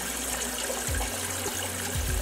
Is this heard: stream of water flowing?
yes